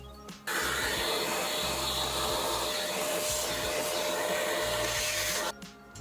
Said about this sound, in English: Usually a vacuum is enough.